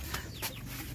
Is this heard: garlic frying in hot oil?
no